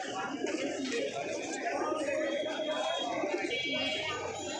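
Crowded pigeon market with racing pigeons and other breeds for sale, soft cooing and bird calls blending into a steady bustle of chatter and voices throughout.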